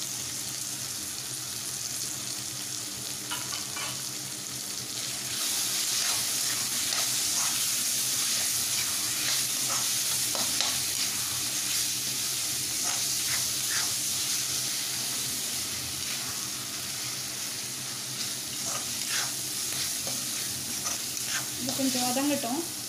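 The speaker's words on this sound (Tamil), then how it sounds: "கொஞ்சம் வதங்கட்டும்." Masala powders sauté in a pan for a Tamil vada curry, giving a continuous loud sizzle and hiss with repeated stirring clinks and scrapes throughout.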